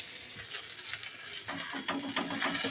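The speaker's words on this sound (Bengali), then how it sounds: "অল্প তেল দিয়ে ঢাকা দিয়ে দিয়ে বেগুনগুলোকে এইভাবে ভাজা করবে" Eggplant slices fry under a lid in a little oil, giving a quiet, steady sizzle with scattered crackles and clicks that grow busier toward the end.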